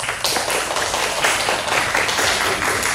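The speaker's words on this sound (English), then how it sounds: "please give a warm round of applause to our distinguished judges" An audience at a high school English speech competition final in Banyuwangi claps loudly for the judges, a dense, steady roar of many hands that lasts the whole three seconds.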